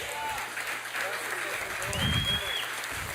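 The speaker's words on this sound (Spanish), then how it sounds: "Dele un aplauso al Señor." A church congregation applauds during a sermon, a moderate, fairly faint burst of clapping mixed with background voices and a low hum.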